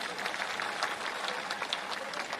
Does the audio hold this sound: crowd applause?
yes